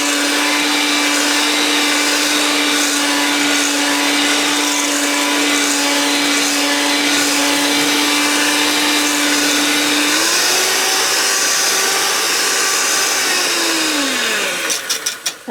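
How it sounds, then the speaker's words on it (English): An electric mixer beats spoon bread batter for a Colonial-style Virginia spoon bread. It gives a loud, steady motor whine that climbs in pitch near the end, then winds down and cuts off, with no talking. "since we have the mixer available to us, I think we should go ahead and use it"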